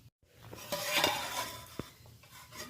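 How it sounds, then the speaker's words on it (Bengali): A lid comes off a cooking pot with a short metallic clink and scrape, followed by soft stirring and faint sizzling, close and with no talk. "ঢাকনাটা খুলে নিলাম"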